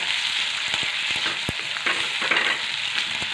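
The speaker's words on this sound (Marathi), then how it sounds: "टोमॅटो टाकायचं आणि थोडंसं तेलामध्ये एक मिनिटभर परतून घ्यायचं" Tomatoes sauté in hot oil in a pan: a loud, continuous close-up sizzle with quick clicking stir strokes scattered through it.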